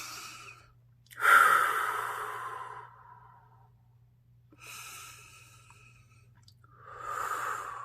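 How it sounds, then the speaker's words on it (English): Deep breaths are drawn and let out close to the ear, three slow airy inhale-exhale swells with quiet pauses between them over a low steady hum. "Just breathe."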